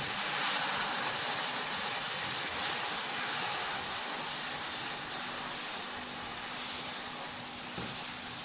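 Butter hitting hot caramel sauce gives a strong, steady steam-like hiss close by that holds for several seconds and eases off only slightly.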